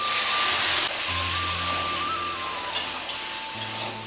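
Spices, ginger paste, chopped green chilli, potato and peas sautéing in a pan for vegetarian Bengali ghugni, a loud continuous sizzle and hiss with scraping stirs and a faint tonal hum underneath, no talking.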